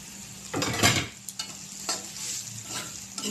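Semolina frying and being stirred in a pan with a little turmeric, scraping stir strokes and steady sizzle, busiest in the first second then softer, close and alone.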